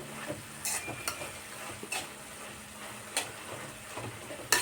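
A ladle stirs greens with onion, green chillies and garlic in a pan, giving scraping clinks at irregular intervals over a low steady sizzle, with no talking.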